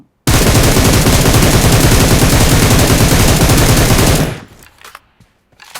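Rapid automatic gunfire from a mobile shooter game on an iPad Mini 5, one loud unbroken burst of about four seconds that cuts off abruptly, followed by a few faint clicks.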